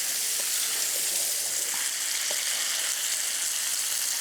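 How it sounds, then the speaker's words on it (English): Garlic sizzling and frying in a hot pan for a beef sausage vegetable bake, a steady close crackling hiss with faint stirring scrapes and no talk. "if you'll stir it in, I'm going to wipe my hand off back here, and we'll be ready to mix that on up"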